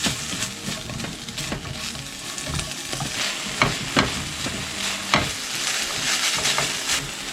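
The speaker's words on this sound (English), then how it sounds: "We're just going to fry this together just for a little bit of interest and flavour." Steak fries with garlic butter in a pan, a steady close sizzle with crackling spits and occasional stirring scrapes, no talk.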